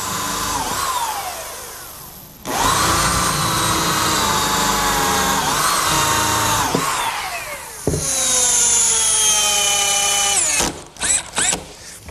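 A power drill drives screws into the center brace of a wooden picnic table, whirring in several loud, close bursts with brief pauses between them and a final few short pulses.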